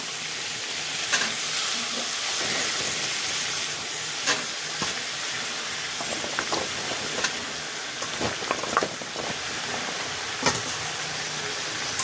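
Chopped water lily stems fry and sizzle in a pan for a Bengali chorchori while a spatula stirs them, steady hissing with intermittent scraping knocks close by.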